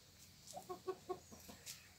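Backyard hens cluck inside a chicken house in Karnataka: a handful of short, close clucks in a loose, uneven rhythm, rising over a quiet background with no talking.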